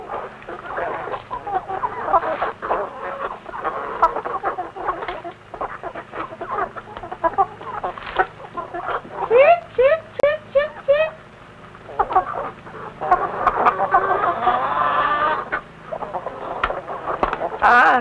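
Chickens cluck and squawk on a farm, with a rooster's crow rising midway; birds are close and busy throughout, with occasional background noise.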